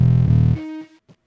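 A distorted synth or bass note in FL Studio cuts off, leaving a short buzzy distortion tail that decays over about half a second, followed by a couple of faint residual blips.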